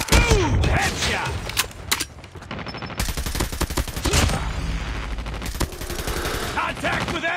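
Rapid gunfire in a Call of Duty match, dense bursts of automatic weapon shots and sharp single cracks, loud and close with brief lulls, mixed with shouted in-game voice callouts.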